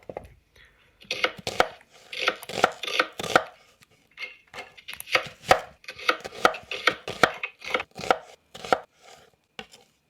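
A knife chops onions on a board for a British Indian restaurant base gravy, giving close, crisp, rapid thuds in uneven bursts with short pauses between runs.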